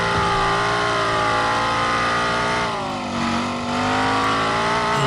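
A car in a mobile car crash game revs continuously as it climbs a hill, a loud steady engine whine with the pitch dipping briefly midway and then rising again, with no talk.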